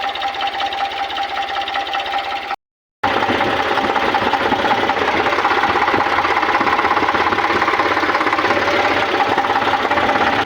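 An Eicher tractor's diesel engine runs steadily near a farm field being loaded with cow-dung manure, a loud continuous rattling drone that cuts out briefly before resuming at full strength.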